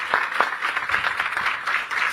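An audience claps in welcome for Gurudev Sri Ravi Shankar at an Art of Living event in Jamaica, with a few loud individual claps over a brief, moderate patter of applause.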